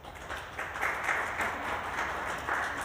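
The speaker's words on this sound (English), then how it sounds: "This is a great achievement, and I think it deserves a round of applause." An audience gives a round of applause at a televised programme, a steady wash of many hands clapping at moderate distance, sustained throughout without voices.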